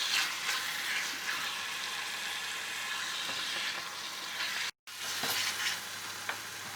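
Tomatoes sautéing in a hot pan, a continuous close crackling sizzle with faint stirring scrapes, broken by one brief gap before the frying resumes.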